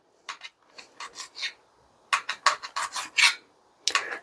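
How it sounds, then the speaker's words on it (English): A knife cutting lamb meat into small cubes on a board, a series of short rasping strokes in two quick bursts with a pause between, close and fairly quiet. "I just want to cut the meat first"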